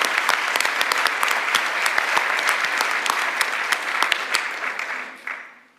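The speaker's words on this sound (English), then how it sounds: "one more big round of applause for all 22 countries represented" Crowd at a naturalization ceremony gives a big round of applause, loud, crisp and dense clapping with sharp individual hand claps, holding steady before tapering off quickly at the end.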